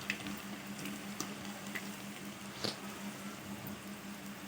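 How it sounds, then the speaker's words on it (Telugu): Chicken pakoda fries in oil and is turned over, giving a quiet, steady bubbling sizzle with a few soft clicks and taps from the flipping, faint and without talk. "ఇలా వేగిన తర్వాత మనం తిప్పి వేసుకోవాలి మరొక సైడ్ బాగా కాచుకోవాలి"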